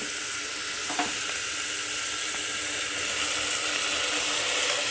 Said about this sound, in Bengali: সব কিছুই আমি একই সঙ্গে দিয়ে দিলাম একসঙ্গে সব দিয়ে দিয়েছি এবার একটু নাড়াচাড়া করে নেবো এটাকে